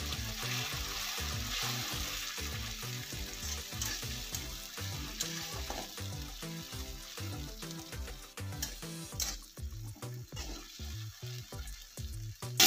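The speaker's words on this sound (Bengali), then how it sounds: "এবার আমি টমেটো পেস্টটা দিয়ে দিচ্ছি।" Tomato paste hits a pan of browned onions for an egg bhurji curry, a loud, steady close-up sizzle with rhythmic spoon scrapes and stirring throughout and no talking.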